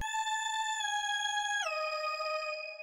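Soft synth lead from the Scream preset in an FL Studio synth, a pure sustained tone that glides down in pitch midway, quiet and isolated with no other sounds.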